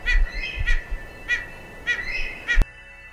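A Western Tragopan pheasant gives a series of about five loud, nasal, wailing calls at a steady, evenly spaced rhythm, close and clear with no talk, ending in a sharp click.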